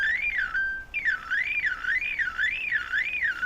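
Annoying electronic device alarm with a loud warbling tone that sweeps up and down in a steady repeating cycle, briefly broken by a flat beep, over constant background hiss.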